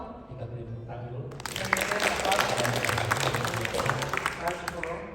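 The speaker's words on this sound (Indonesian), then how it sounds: "Kita beri tepuk tangan dulu" A church congregation bursts into applause to thank a visiting guest, dense clapping starting suddenly after someone speaks and continuing steadily, with his voice faintly under it at first.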